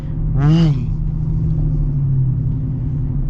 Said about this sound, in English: This thing has so much torque. I just barely hit the throttle